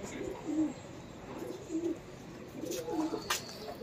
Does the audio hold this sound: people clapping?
no